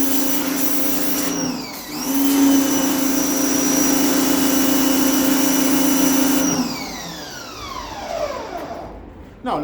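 A Hyundai HPW165B 2.2 kW high-pressure washer runs with a loud, steady motor whine and hiss that shifts pitch and stops briefly, then winds down at the end as the motor slows.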